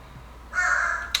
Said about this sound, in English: My apologies if you hear my bird in the background.